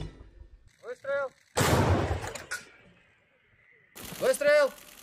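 Someone shouts a short Russian command, "Fire!", then one heavy blast from an Msta-B howitzer booms close by and rumbles away before another shout follows.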